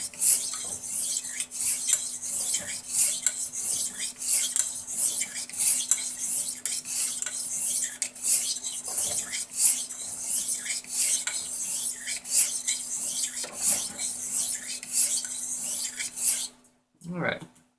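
A straight razor's bevel is set on a 1.2K sharpening hone, giving steady rhythmic scraping strokes of steel on stone, close and continuous, ending with a brief quiet pause and a soft knock.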